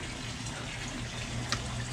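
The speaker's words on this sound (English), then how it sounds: "got a wave maker in there. Keeps the fish pretty happy, and a couple of new bubblers down there, creates lots of oxygen in there" An aquarium wave maker and bubblers run in a fish tank, making a steady close wash of bubbling, trickling water with one brief splash near the end.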